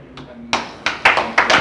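Group clapping during a short energizer at an online evaluation advocacy session, a few sharp, loud claps in a loose rhythm after a brief quiet start, without anyone speaking.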